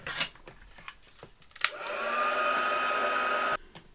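A hair dryer blasts steadily for about two seconds, drying crafting paper on a planner cover, preceded by a few light taps and handling sounds and switched off abruptly.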